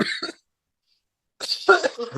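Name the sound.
cough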